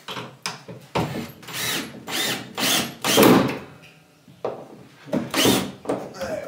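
A power drill drives screws into a kitchen cabinet fixed to wall studs, giving repeated short whirring bursts of varying length separated by brief pauses, close and moderately loud.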